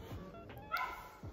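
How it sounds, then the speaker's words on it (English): Dogs in a home, including a cocker spaniel and chihuahuas, give a short high yip and whimper with a brief bark, fairly faint and set back in the room. "If you hear something in the background, it's my dogs"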